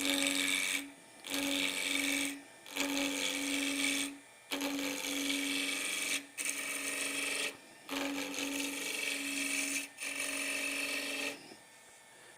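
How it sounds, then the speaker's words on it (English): A spindle roughing gouge cuts wood turning on a Jet Mini lathe, giving a close, steady rasping drone in repeated passes of about a second or two, separated by brief pauses. "I'm going to turn this piece around with this spindle roughing gouge"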